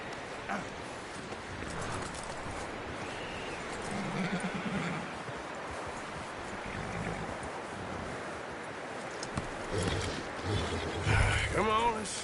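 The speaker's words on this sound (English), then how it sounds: "You should really tether that horse, Arthur." In Red Dead Redemption 2, a horse snorts and shuffles faintly in the background among ambient outdoor sound, with characters talking over it.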